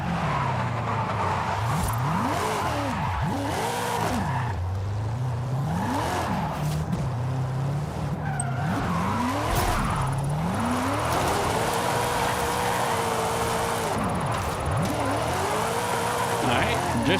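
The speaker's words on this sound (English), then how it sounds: "Drift's pretty nice so far" A car drifts in Forza Horizon 5 on a steering-wheel setup. The engine revs rise and fall repeatedly, with long tire squeals throughout and someone talking over it.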